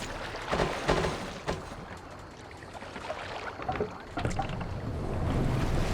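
A sailing boat in Assassin's Creed Valhalla moves across the water with a continuous wash of waves and hull splashing, gusting wind rushing past, and a few brief knocks near the start.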